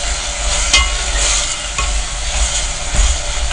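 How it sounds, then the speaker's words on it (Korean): Seaweed being stir-fried over the lowest heat for beef miyeokguk, a Korean birthday soup, giving a steady soft sizzle with occasional scraping stirs, close and continuous with no talking. "제가 지금 많이 볶는 것 같지만 불을 제일 약하게 해놨어요."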